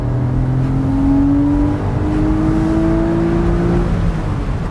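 A stock 986 Porsche Boxster S engine pulls hard under acceleration, its loud, smooth tone climbing steadily in pitch with one brief dip between gears, heard up close from inside the car with no talk.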